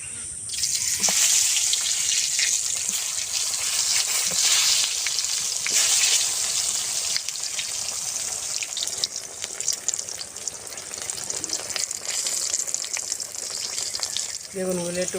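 Brinjal (eggplant) pieces coated with salt and turmeric frying in oil, a continuous close sizzling hiss with a few stirring scrapes, no voices.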